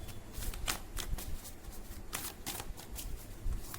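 Tarot cards shuffled and pulled from the deck in a run of quick riffling bursts and soft flicks, close and fairly steady, with no talking.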